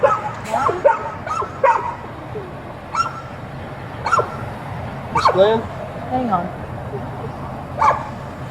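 Several dogs shut inside a parked car yip, whimper and bark in scattered bursts, muffled and moderately near, while people talk over them.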